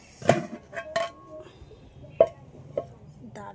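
A cooking pot of mutton biryani is shaken on a low flame, giving a few bright metallic clanks and clinks at irregular intervals, close by, with a little voice in the background.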